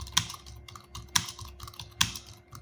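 Hindi text is typed in Mangal font on a computer keyboard, with soft continuous key clicking marked by three sharper, louder key strikes spaced roughly a second apart, close and without talk.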